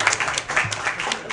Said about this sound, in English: So I think a round of applause is in order for Fred Horn.